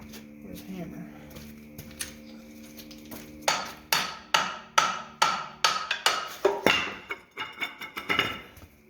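Metal hammer blows strike an Isuzu 3AB1 three-cylinder diesel skid steer engine during teardown, a run of sharp, fairly close, rhythmic clanks with brief pauses, after some quieter handling noise at the start.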